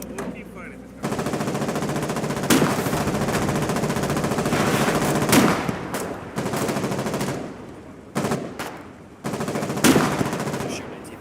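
Machine gun fire in the video game Foxhole, long sustained automatic bursts broken by short pauses, loud and close, with a few sharper shots standing out.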